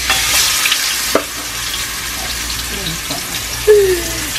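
A salmon fillet fries in hot oil with a bright, steady sizzle that is loud at first and then settles, broken by a few soft knocks and a brief squeak near the end.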